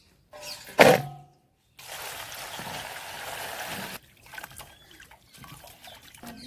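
Tap water running over raw chicken as it is rinsed for chicken biryani, a steady splashing trickle lasting a couple of seconds, then fading into quieter intermittent splashes and handling noises.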